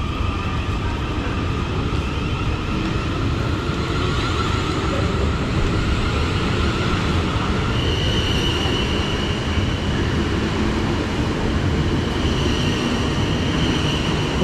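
A South Western Railway Class 450 electric multiple unit runs through Wimbledon station, with a loud, steady rumble of wheels and traction motors. Tonal whines rise and shift over the continuous rolling noise, and no one speaks.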